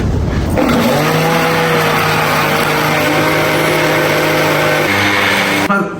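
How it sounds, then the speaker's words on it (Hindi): A juicer machine motor blending spicy red shawarma sauce: a loud, steady whirring drone that starts abruptly, shifts pitch slightly near the end, then cuts off. "इसको 4 से 5 मिनट हमने जूसर मशीन को चलाना है ताकि ये सही फ्लफी सा हो जाए"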